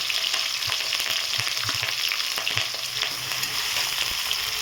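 Onions, green chillies and curry leaves fry in hot oil with a steady, close, hissing sizzle and occasional soft pops, continuous and without talk.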